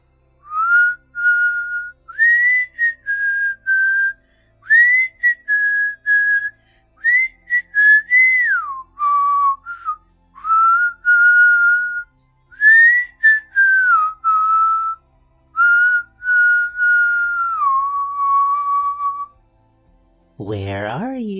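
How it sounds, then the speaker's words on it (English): A man whistles a slow tune in clear, separate phrases, close and loud, with short pauses between the notes, until a brief voice-like sound at the very end. "He whistled."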